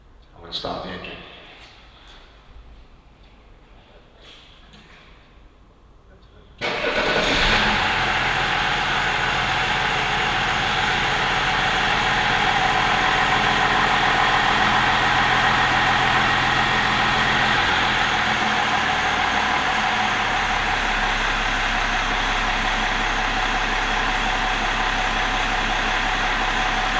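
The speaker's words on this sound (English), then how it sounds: "going to start the engine." A car engine cranks and catches after a few seconds of quiet, then settles into a steady, loud idle that runs on evenly, with a voice heard over the quiet opening.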